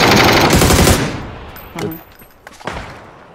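Video game gunfire: a loud, sustained rapid burst of shots for about a second, then a few scattered, fainter single shots and reports further off.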